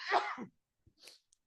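A single close sneeze in a quiet room, a sharp burst followed by a short trailing exhale, then a faint murmur and a small click after a brief pause.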